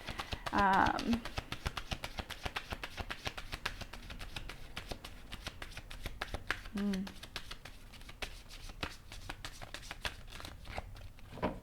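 Pick-a-card reading cards being shuffled, a dense run of soft papery riffles and flutters going on throughout, with a person speaking briefly over them.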